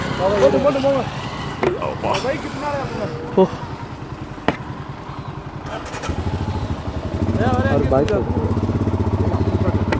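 A motorcycle engine sputters and revs before settling into a steady, rumbling idle, with people talking over it.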